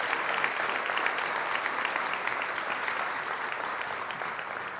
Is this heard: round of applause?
yes